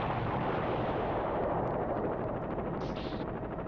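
Bombs exploding in the PlayStation game Silent Bomber, a dense, loud, continuous roar of blasts and rumbling debris that fills the whole stretch with no pauses and no voices.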